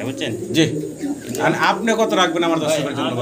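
Pigeons coo at a pigeon farm where chicks and egg-laying pairs are sold, the soft bird calls running continuously beneath a close conversation between two men bargaining.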